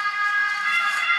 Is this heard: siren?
yes